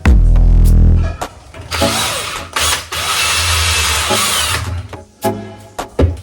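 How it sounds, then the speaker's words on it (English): A loud power drill whirs close by in several bursts, drilling a hole for a magnetic catch, spinning up, grinding through material for a few seconds, then stopping and restarting briefly. "drill a hole right here"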